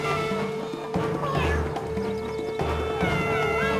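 A cat meow voiced for Catwoman in the Wii game Batman: The Brave and the Bold, a few drawn-out mewing calls over game music and sound effects.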